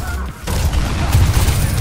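Gunfire in Overwatch 2, with heroes Junkrat and Sojourn in play: a loud, dense burst of shots and booming blasts that fills the moment after a brief lull, with a voice speaking over the action.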